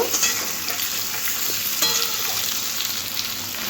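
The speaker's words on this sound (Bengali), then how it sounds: "আলুটা একটু লাল লাল করে ভেজে নেব" Diced boiled potatoes fry in oil with a dense, continuous sizzle close by, broken by faint stirring scrapes and a few light taps.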